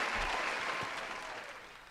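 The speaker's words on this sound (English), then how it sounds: "Give him a cheer." Brief burst of studio applause on a live sports radio show, steady clapping that fades slightly over two seconds with no voices.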